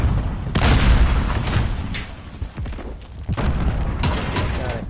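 A grenade explodes in Call of Duty Modern Warfare as a loud, heavy boom, surrounded by rumbling bursts and gunfire-like pops in a chaotic firefight.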